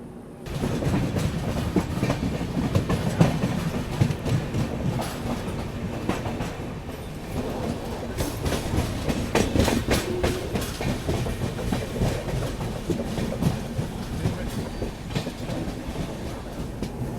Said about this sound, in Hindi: तो मेरे ख्याल से ये थी आपकी पूर्णा एक्सप्रेस।